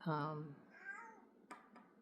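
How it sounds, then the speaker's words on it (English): A cat gives a short, bright chirping meow up close, followed by a couple of quieter rustles and taps. "This kitty cat is over here chirping at me."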